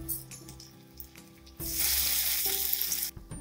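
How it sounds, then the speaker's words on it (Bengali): Small prawn fritters (kucho chingri bora) drop into hot mustard oil and burst into a loud, steady sizzle for over a second, then settle back to quieter bubbling frying. "তেল গরম হয়ে গেছে, এবার আমি বড়াগুলো দিয়ে দিচ্ছি।"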